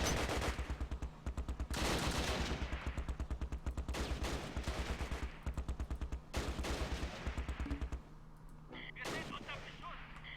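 Gunfire in Close Combat Last Stand Arnhem, a wartime strategy game: loud rapid bursts of automatic fire and heavy shots in repeated volleys, then a quieter gap with a few isolated blasts near the end.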